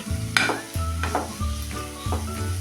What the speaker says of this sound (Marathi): भाजी आपली दोन मिनटं झाकून मऊ करून घेतल्यानंतर थोडी आपण ही हलवून घेऊया